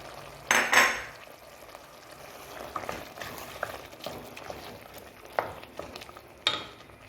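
Cuttlefish and tomato being stirred and fried in a pan, with soft scraping and clinks of a utensil against the pan over a steady low sizzle, a louder clatter near the start and a few sharp taps later.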